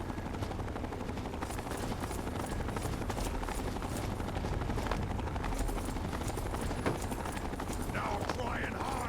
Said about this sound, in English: That sounds like an enclave chopper.